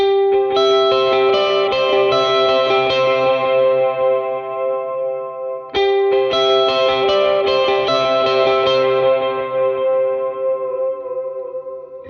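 Electric guitar on a clean tone with dual delay plays an arpeggiated part from a song, bright picked notes trailing into shimmering repeats, the phrase played twice, loud and full.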